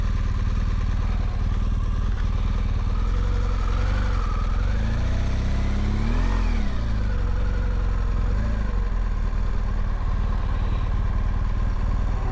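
Motorcycles idle and rev at a busy roadside biker meeting spot with a long row of parked bikes, a loud, close, continuous engine rumble with one rising and falling rev in the middle.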